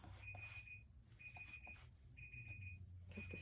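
A faint, high-pitched timer alarm beeps in four evenly spaced bursts during a painting challenge, sounding alone over a low background hum.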